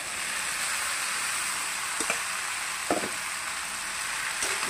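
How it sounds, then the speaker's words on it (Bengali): Rice and potatoes stir-frying in a pan make a steady, close sizzle throughout, with a few soft clacks of a spatula stirring near the middle and end. "ভাত দেওয়ার পরে হালকা নেড়ে চেড়ে ভাজবো 5 মিনিট।"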